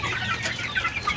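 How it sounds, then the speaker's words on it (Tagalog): Young chicks in an outdoor brooder, crossbred game fowl and native birds, giving a busy chorus of soft overlapping peeps and clucks, close and steady without talk. "ito na yung mga manok natin sa brooder"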